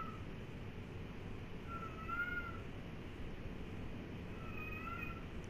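A pet cat meows a few times in a quiet room, the short, thin calls clear against a steady low hum of background noise.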